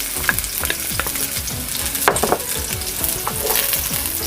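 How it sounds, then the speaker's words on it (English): Green onions frying in sesame seed oil, a loud close sizzle with rhythmic stirring scrapes of a utensil repeating across the pan, no voices. "Add some sesame seed oil. Add in your green onions."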